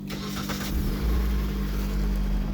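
Mitsubishi ASX engine starting in a workshop after a front wheel bearing replacement: a brief crank, then a steady low idling rumble close by, with no talk.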